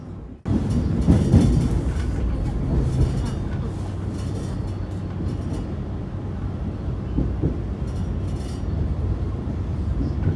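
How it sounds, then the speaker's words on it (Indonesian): The KA Banyubiru passenger train on the Semarang–Solo line pulls out of Semarang Tawang station with a loud, close, continuous rolling rumble and steady rhythmic wheel clatter that begins abruptly after a brief quiet moment. "ini perjalanan kereta api Banyu Biru baru saja diberangkatkan dari stasiun Semarang Tawang"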